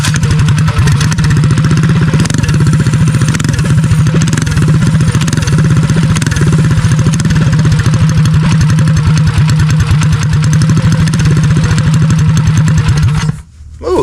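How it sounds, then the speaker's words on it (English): A Harrison mini bike engine with a custom exhaust runs steadily and loudly up close, a continuous chugging idle with a rapid firing pulse, before cutting off abruptly near the end. "y'all can hear this thing run, because this does have some kind of cool exhaust on it"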